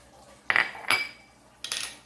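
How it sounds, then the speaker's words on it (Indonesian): Egg yolks with black pepper and parmesan are whisked in a bowl for spaghetti carbonara, giving three sharp, close clinks of a utensil striking the dish amid quiet pauses. "Lalu kita kocok atau aduk rata."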